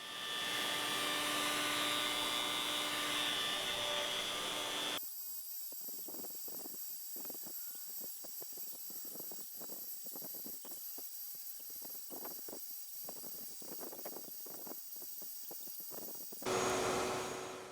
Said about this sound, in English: I locked the slab down to the base and made a couple passes with the router.